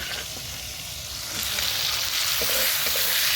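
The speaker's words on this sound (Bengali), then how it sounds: "চিংড়ি মাছগুলো লাল লাল করে ভেজে" Shrimp frying in a pan, a steady bright sizzle that swells louder partway through, with occasional faint stirring clicks and no talk.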